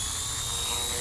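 A Jet Ranger RC hobby helicopter's rotor spinning, a steady high-pitched motor whine with a rapid buzzing whir, close and continuous.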